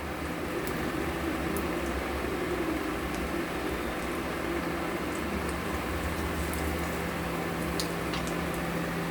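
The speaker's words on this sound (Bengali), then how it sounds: "আঁচে কমিয়ে একদম লো ফ্লেমে ভেজে নেব, সময় নিয়ে ভেজে নেব।" Onion stalks frying in hot oil on a low gas flame, a soft, steady sizzle with a faint continuous hiss and no talking.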